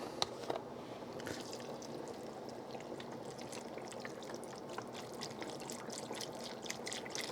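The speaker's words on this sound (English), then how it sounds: "I may need to add some more vegetable broth" Vegetable broth poured into a pot of black-eyed peas, a steady close liquid stream with small splashes and drips running throughout, no talking.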